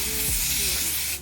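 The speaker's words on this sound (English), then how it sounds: "I'm just gonna spray around my hairline" Lace spray misted around a wig hairline from an aerosol can, a steady close hiss filling the short moment before fading at the end.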